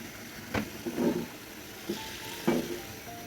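Tomatoes fry in a pan for pabda fish curry, giving a low steady sizzle. Several soft knocks and scrapes of stirring break through it now and then, fairly quiet.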